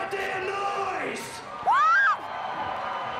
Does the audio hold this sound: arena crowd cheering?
yes